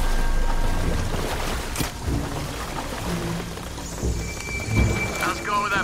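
Heavy rain and rolling thunder in the action game Shadow of the Tomb Raider, a loud steady downpour with low rumbles and scattered splashes under brief game sounds.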